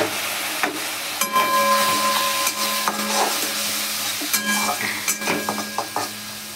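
Dried loitta fish curry being sautéed in a pan with spices and a splash of water, a continuous sizzle broken by regular spoon scrapes and stirring knocks.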